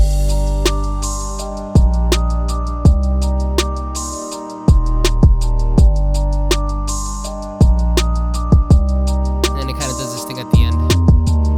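A Halloween-style hip-hop drum beat with deep booming 808 bass hits and sharp snare and hat strikes in a steady repeating pattern, loud and upfront with no voices.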